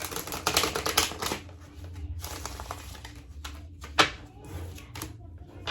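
A deck of cards is shuffled several times, giving rapid fluttering riffles with crisp clicks and a sharp snap near the end, close up and without talk.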